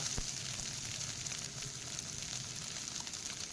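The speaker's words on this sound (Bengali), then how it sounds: "ভুজিয়াটা বেশ লাল লাল করে ভেজে নেব" Potato bhujia frying in a pan until reddish-brown, giving a steady, soft, even hiss of hot oil that runs throughout with no talking.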